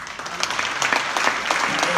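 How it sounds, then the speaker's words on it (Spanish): A church congregation applauds, a dense, steady patter of many hands clapping at once that fills the whole short stretch. "Tenía que dar un aplauso ahí."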